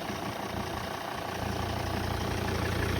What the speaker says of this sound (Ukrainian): Мотор працює чітко, рівненько, ну слухайте собі, просто так моркоче.